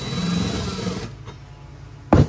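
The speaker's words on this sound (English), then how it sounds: "Sometimes when your drill's bouncing around on you" A power drill whines steadily and loudly for about a second and then cuts out. After a short quiet gap, a brief harsh burst of drilling follows, with no voices.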